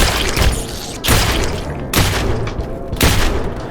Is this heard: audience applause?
no